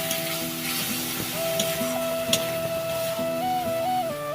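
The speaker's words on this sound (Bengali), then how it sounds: "এখন যে পেঁয়াজের পেস্টটা করে রেখেছিলাম সেটা দিয়ে দিলাম এবার এটা নিয়ে ভালো করে কষিয়ে নেব" Onion paste fries in a pan for a spicy egg curry, a soft, steady sizzle heard close up beneath background music.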